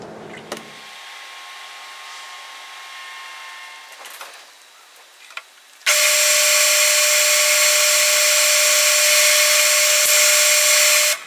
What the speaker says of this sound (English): So now I'm going to drill the second hole